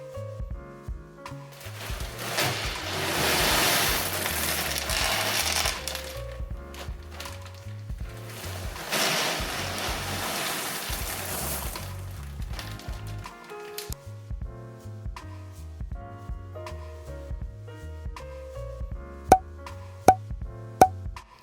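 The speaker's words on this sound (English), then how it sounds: "I'm filling the bottom of the tank with leca clay balls to help the water drain down" Leca clay balls pour into the bottom of a bioactive blue tongue skink terrarium, two long rattling, clattering rushes followed by lighter scattered pebble clicks and a few sharp taps, close and fairly loud, with music playing underneath.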